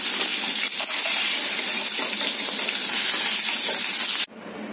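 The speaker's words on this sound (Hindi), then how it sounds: "मैंने दोनों साइड इस तरह फिश को फ्राई कर लिया है" Rohu fish frying in a hot pan of oil for a curry, a steady close, loud crackling sizzle that runs unbroken for about four seconds and then cuts off abruptly.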